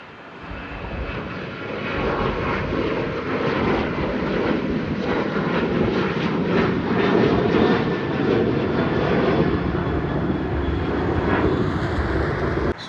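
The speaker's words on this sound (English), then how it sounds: "Oman air 737-8 जिसकी आपको पहले लैंडिंग दिखाई थी, now it's taking of and going back to Muscat" An Oman Air Boeing 737-8 jet takes off at Delhi airport, its engines building to a loud, sustained roar heard from a distance and holding steady for several seconds.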